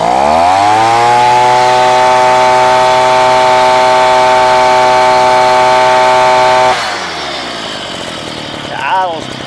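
An ECHO PB210E handheld leaf blower's small engine fires up and runs loud and steady at high revs, then drops sharply to a rougher, quieter idle near the end.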